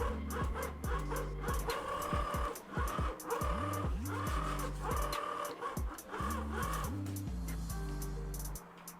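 A powerful car engine revs and drives in a video game, a loud, continuous roar that rises and drops in repeated stepped pitch sweeps like gear changes, with faint voice in the background.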